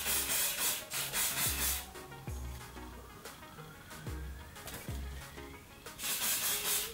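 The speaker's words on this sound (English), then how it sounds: "So I like to spray my hair in sections." Root-lifter hair spray is sprayed onto damp curly hair in several hissing bursts, close by, with quieter rustling between the sprays.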